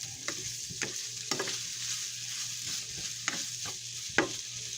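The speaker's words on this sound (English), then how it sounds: "Now that the pan's gotten hot, you can hear it sizzling." Kielbasa sizzles in a hot frying pan, a steady bright hiss broken by a few sharp pops and spatters, close up with no talking.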